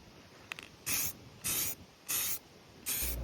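Rust-Oleum primer hisses from a spray paint can in four short, sharp bursts outdoors on a hot day, each lasting about half a second with brief pauses between, close and fairly quiet.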